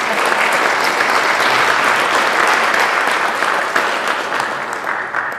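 Loud, sustained audience applause in an evening talk event hall, welcoming guest Dr. Milan Jazbec; dense clapping fills the room steadily, fading slightly toward the end.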